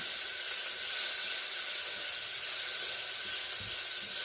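Bright red pepper pieces fry in a pan with a steady, close hissing sizzle that stays level throughout, with no voices.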